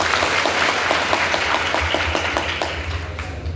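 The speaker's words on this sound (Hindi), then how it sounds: "जोर से ताली बजाओ इसके ऊपर" An audience at a state-level student convention in Ratlam applauds loudly, a dense burst of clapping close by that continues for a few seconds and eases slightly near the end.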